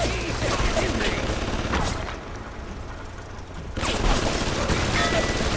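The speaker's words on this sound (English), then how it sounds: "Wow, he's still shooting me." Enemy gunfire in the BioShock video game rattles in dense, continuous bursts, easing briefly in the middle before returning at full loudness.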